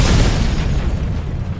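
An ancient Chinese gunpowder bomb goes off as one loud, deep blast that rolls into a heavy rumbling roar and slowly fades. No voices are heard.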